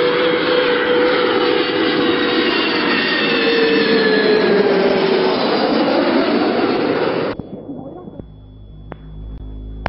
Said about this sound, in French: en l'air arrive l'avion,